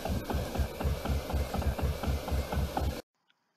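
A cartoon tractor engine chugs in a steady rhythmic idle while ploughing a field beside a railway line, a loud mid-to-low thumping putter that runs continuously and then cuts off abruptly into silence.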